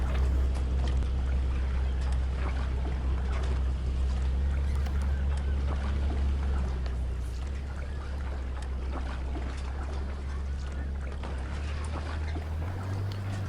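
In a boat docking simulator game, a motorboat engine gives a steady low rumble with watery wash on top. The throttle pitch shifts near the end.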